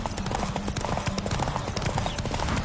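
Galloping horse hooves in The Witcher 3: Hearts of Stone, a steady fast clip-clop rhythm close and loud over game ambience, with a faint voice.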